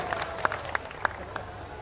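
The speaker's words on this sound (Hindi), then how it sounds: "आप भी आ जाए हैं, जोरदार ताली बजा करके स्वागत करें।" A crowd at a Hindu religious procession gathering in Mathura claps in welcome, with sparse, fairly evenly spaced claps that are quiet and soft against a low background murmur.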